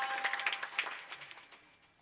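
A live kirtan audience claps in a brief, fairly quiet burst of many hands, the rapid claps blurring together and fading out within a couple of seconds.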